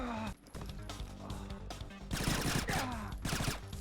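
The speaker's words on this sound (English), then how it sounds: "I headshot the first one and then quickly take out the other ones" Several loud, close gunshots ring out in the Splinter Cell video game, spaced across a few seconds over a busy game soundscape with no talk.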